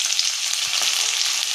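Tomato fries for homemade egg fried rice, a brief continuous close sizzle with no talk.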